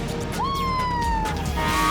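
A man imitates a siren wail on a noisy game-show obstacle course, his voice sliding up into one long tone that slowly falls, loud and close above a busy crowd din.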